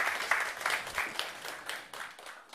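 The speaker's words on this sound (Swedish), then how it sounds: "en applåd" Brief, fairly faint applause from a panel-event audience in Sweden, with individual claps audible and thinning out toward the end.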